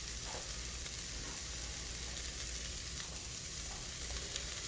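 Ground Italian sausage frying with vegetables in a pan, a steady close sizzle with soft crackles and faint stirring scrapes, no talking.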